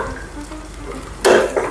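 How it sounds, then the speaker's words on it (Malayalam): Chopped shallots hit hot oil in a pan while cooking prawns, a sudden loud sizzle that flares up and keeps crackling briefly. "ഇതിലേക്ക് നമ്മുടെ ചെറുള്ളി ഇടാം"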